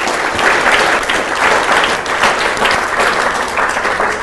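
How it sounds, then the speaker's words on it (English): Loud, sustained applause from an audience at a community meet-the-candidates event, many hands clapping evenly and close for several seconds with no voices standing out. "Guys, if we could give a round of applause to our host, our commentator, and to our candidates"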